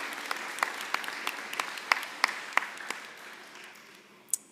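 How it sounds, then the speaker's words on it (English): Audience applause at an electric cooperative's annual meeting, a steady round of clapping from a room of people with a few sharp individual claps, fading out after about four seconds. "Let's give you guys a round of applause."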